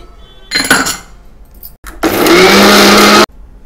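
Mixer grinder running on onions, cumin and grated fresh coconut: a short burst of loud whirring, a brief pause, then a sustained, steady grinding roar for over a second before it cuts off abruptly.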